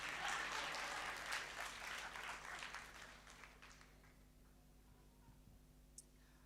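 Audience clapping at a panel discussion, fairly faint and distant, dense at first and then tapering off over a few seconds into a quiet room.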